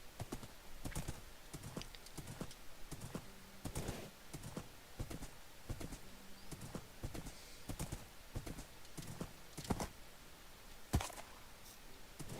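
Horse hooves clip-clopping in Minecraft, a hardcore survival game world, a steady run of sharp, fairly loud hoof knocks in an uneven trotting rhythm with no talk over them.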